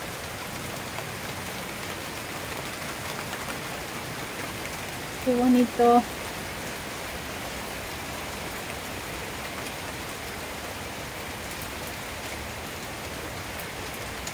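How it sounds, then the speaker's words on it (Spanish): Steady rain falls in a soft, even hiss over Modesto, California, with a person briefly speaking in the middle over the downpour. "miren qué bonito está lloviendo aquí, California"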